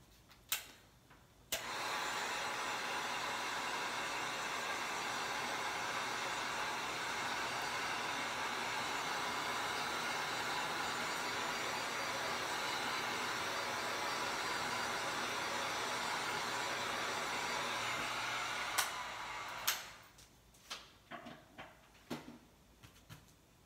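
A hair dryer runs steadily for about eighteen seconds, drying a watercolor angel sketch on paper. It switches on abruptly, blows in a loud constant whoosh, then cuts off, followed by a few small taps and rustles.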